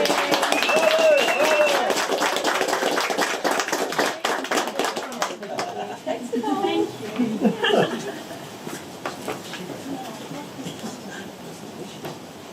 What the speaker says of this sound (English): Quick round of applause for the caterers.